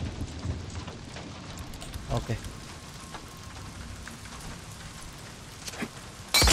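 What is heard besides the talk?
heavy rain in video game Days Gone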